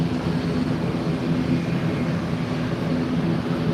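An American Airlines Airbus A321 arriving at Fort Lauderdale airport gives a steady, moderately loud jet engine roar with a low hum, unbroken across the few seconds.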